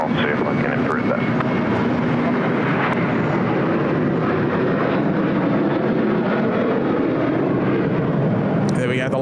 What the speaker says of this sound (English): the lovely A220 there of Qantas Link